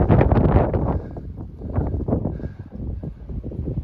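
Wind rushing and thumping against a microphone in uneven gusts on a mountaintop along the Art Loeb Trail, loudest at the start and easing off afterward.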